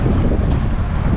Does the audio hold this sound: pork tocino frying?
no